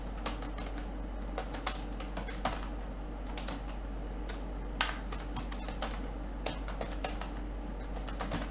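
Quick, irregular keystrokes on a computer keyboard as Python code is typed, close and fairly quiet over a steady low hum, with occasional sharper key taps.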